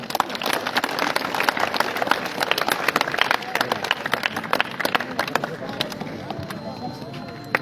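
An audience at a school competition event gives a burst of applause, many hands clapping in a dense, crackling patter that gradually thins toward the end.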